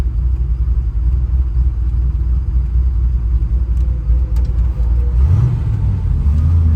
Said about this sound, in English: we'll see what this 302